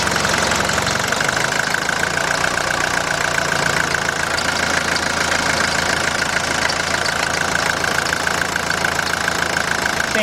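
A 1981 Mercedes-Benz 240D diesel engine idling roughly, a loud, close, steady knocking clatter with a constant hum that runs unbroken throughout, with no talking.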